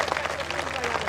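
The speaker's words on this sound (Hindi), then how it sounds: "तालियां बजा दीजिए।" An audience at a Hindi comedy poetry show (hasya kavi sammelan) in Deoria applauds in a brief, dense, continuous wash of clapping.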